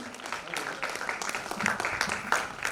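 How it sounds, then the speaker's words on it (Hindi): An audience at a business achievers' meeting applauds to welcome an achiever on stage, with continuous moderate clapping and some voices underneath. "बढ़िया तालियों से स्वागत कीजिए"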